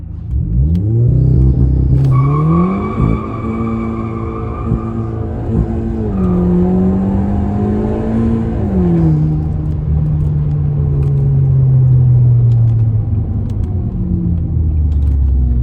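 A VW car with a DSG gearbox revving hard through a launch start, its engine loud and close, pitch climbing, pausing at a gear shift and climbing again before easing into a steady, sustained drone.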